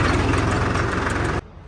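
A tractor with a loaded grain trolley idles at a weighbridge, a steady close rumble that runs loud and even, then cuts off abruptly near the end.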